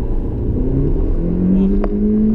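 A Honda Civic Si launches hard on a track, its engine note climbing in a loud, close rising rev with a steady low rumble underneath, heard from inside the car without talk.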